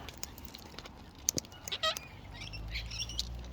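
Wild Australian birds give scattered short chirps and squawks from different directions, some sharp and near, others fainter, with irregular gaps and soft rustling in between.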